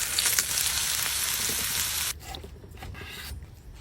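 Meat searing in a hot pan gives a loud, dense sizzle that fills the first two seconds, then cuts off abruptly to a quieter crackle with faint clicks.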